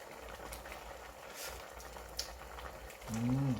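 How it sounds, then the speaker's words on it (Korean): Soft, steady bubbling of a pork kimchi stew simmering on the stove, a low continuous gurgle with a brief louder swell near the end. "오, 잘 끓는다. 보글보글 잘 끓네."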